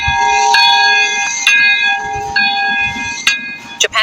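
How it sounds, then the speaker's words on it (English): Twin cathedral bells ring out in Nagasaki in a message of peace. Loud, resonant strikes about once a second sustain long humming tones, with a few sharper hits near the end. "these twin cathedral bells ringing for the first time as the bombing in a message of peace to the world"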